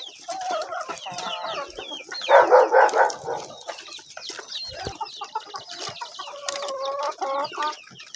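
Several chickens cluck and chatter close by, overlapping in short bursts, with one louder squawking flurry partway through; no talking.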